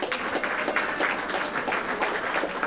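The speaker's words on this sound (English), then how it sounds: "Give them all a nice round of applause." A round of audience applause for sponsors at a fundraiser gala, continuous moderately loud clapping from a crowd.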